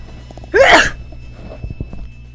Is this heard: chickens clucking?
no